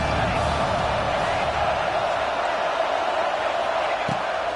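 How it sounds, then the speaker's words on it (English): A football stadium crowd gets behind the defense on a big third down, a dense, steady roar of cheering that fills the whole space, with a commentator's voice carrying over the noise. "Big third down as the crowd gets behind this defense."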